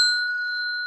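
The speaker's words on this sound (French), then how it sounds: "Donc je me suis acheté la petite sonnette." A small pink desk bell is tapped once, giving a clear, close ding with two steady ringing tones that sustain through nearly a second with little decay, alone with no talk.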